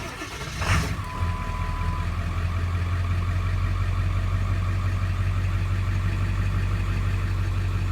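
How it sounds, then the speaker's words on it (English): A 2001 Ford F250 Powerstroke 7.3 diesel with 153,000 miles starts with a brief burst, then settles into a steady, smooth, deep idle rumble up close. No one speaks. "Very smooth running engine."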